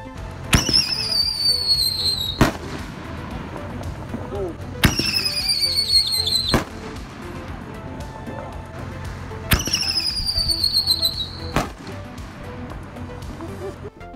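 Whistling-tail canister firework shells launch in three rounds, each a sharp thump followed by a rising, piercing whistle and a loud burst, spaced a few seconds apart outdoors.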